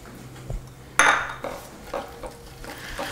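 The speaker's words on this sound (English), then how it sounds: "Allow it to stir in and dissolve and get all good and happy in there with the chocolate and the butter." A spoon stirs brown sugar into melted chocolate and butter in a pot, making a few soft scrapes and clinks with one louder knock against the pan, fairly close and with no talking.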